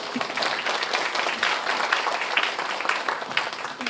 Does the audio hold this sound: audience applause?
yes